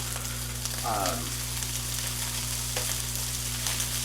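Steady sizzling and frying of garlic fried rice with ginger and spring onions in a hot pan, occasional light pops and a brief scraping stir near the start, constant and close.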